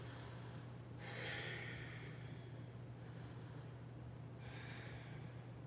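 Deep, slow breaths during a yoga flow: two long, airy exhales about three seconds apart, soft and close over a low background hum.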